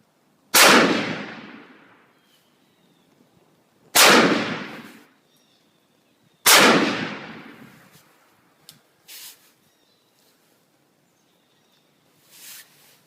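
A Remington 700P rifle fires .300 Win Mag cartridges on an outdoor 100-yard range: three loud, sharp reports spaced a few seconds apart, each ringing out in a long decaying echo, with small clicks and a faint later thump between them.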